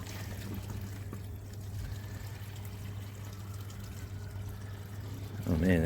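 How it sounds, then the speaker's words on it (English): Water is tipped out of an old wheelie bin converted for composting, a faint steady pouring and trickling outdoors with a low hum underneath and a brief louder splash at the end. "And now we're just tipping the water out,"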